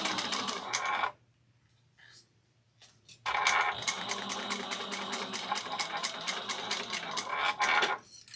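A sewing machine top stitches fabric trim at an eighth of an inch for a Nora bag, running in a steady rapid whir for about a second, pausing, then stitching continuously for several seconds, close and fairly loud.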